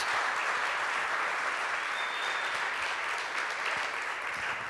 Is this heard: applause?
yes